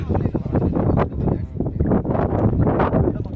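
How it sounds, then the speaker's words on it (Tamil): Strong, cold wind gusts across a mountain trail in the Velliangiri hills, a dense, continuous roar that stays loud throughout, with voices mixed into it. "நல்லா காற்றடிக்குது விசு விசுன்னு சரியான குளிர் ஸ்டார்ட் ஆகுது"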